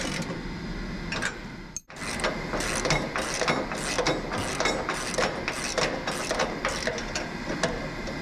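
A ratchet clicks in a rapid, even rhythm while bolting cleaned, painted parts onto a frame in a workshop, close and fairly loud, after a brief pause near the start.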